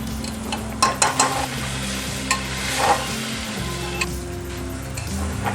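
Lentils and broken rice being sautéed in a pot for a one-pot pulao, with a steady low sizzle under repeated scraping stirs and a few sharp clicks of the spoon against the pot.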